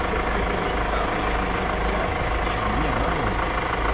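A Hyundai Starex van's engine idles nearby in a steady, even drone with a low rumbling throb and faint mechanical ticking, holding unchanged for a few seconds.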